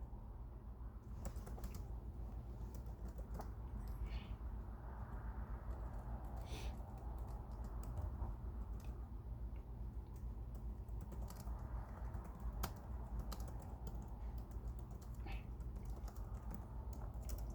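Continuous light clatter of typing on a computer keyboard, steady and fairly faint, over a constant background hum.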